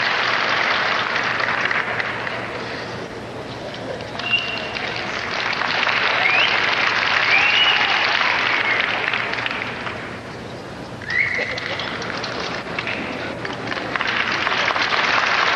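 An arena crowd applauds at the Westminster Kennel Club dog show as herding-group dogs move around the ring, with sustained clapping that swells and eases, heard loud and continuous with little talk.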